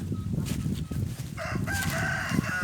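Free-range chickens roaming on a rural farm, with a rooster crowing loudly in a drawn-out call over a steady clucking flock and outdoor background noise.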